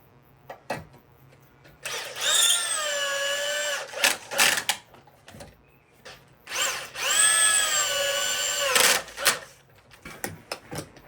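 A power drill drives galvanised bugle screws into H3 timber in two sustained, rising whirring bursts, each ending abruptly, with clicks and handling knocks between, close and loud.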